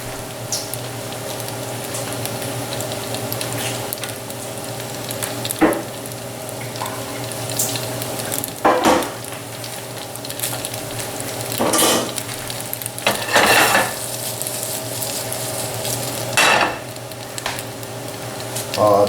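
Diced shallots sizzle in a pan for penne with pesto, a steady hiss under a low hum, with several louder bursts of crackle and scraping as they are stirred.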